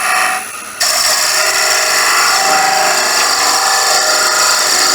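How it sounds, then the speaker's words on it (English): A roughing gouge cuts a spinning wooden whistle blank on a wood lathe with a loud, continuous, hissing scrape. It begins after a short quieter lead-in and holds steady, close up, with no talking. "That roughing gouge, as you can see, just turn that round, but we need to get a bit of a finish on there."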